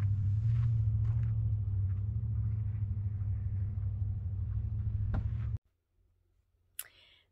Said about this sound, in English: We have traffic this morning.